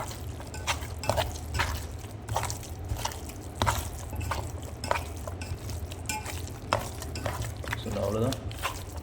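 Minced mutton kebab mixture being mixed with tomato paste by hand in a bowl, giving soft, wet, squelching stirs in an irregular rhythm, close and fairly quiet, with a faint background hum.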